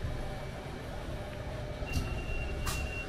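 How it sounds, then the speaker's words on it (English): A tram rumbles past nearby, a steady low rolling drone with a high metallic squeal and brief hiss of passing wheels, heard alone without talk. "Hey, tram."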